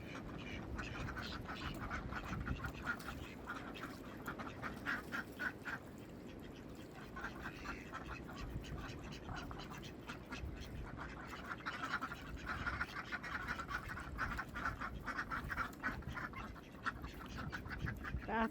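Khaki Campbell ducks on a homestead quacking continuously, a dense, overlapping chorus of near, loud calls that runs unbroken throughout.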